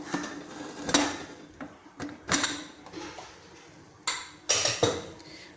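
Metallic clanks and scraping as a pressure cooker lid is twisted and lifted open after cooking vegetable biryani, several sharp clunks spaced apart at close range.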